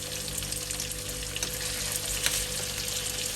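Tofu frying in a pan for fresh lumpia, a dense, steady, close sizzle with faint stirring, and no talking.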